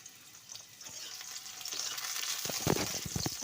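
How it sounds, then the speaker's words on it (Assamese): Two dried red chillies and onion frying in hot oil give a steady, soft sizzling hiss, with a few louder stirring scrapes toward the end and no voices. "এতিয়া মই তেলখিনি গৰম হ'বলৈ দি তাত দিছোঁ মই শুকান জলকীয়া 2টা আৰু পিঁয়াজখিনি দি মই এইখিনি ৰঙচুৱা হোৱালৈ এতিয়া অলপ সময় ভাজি থাকিম।"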